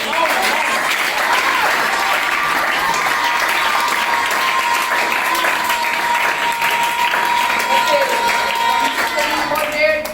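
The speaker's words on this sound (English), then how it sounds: "Clapping louder" A large crowd applauds continuously, loud and dense, sustained without a break.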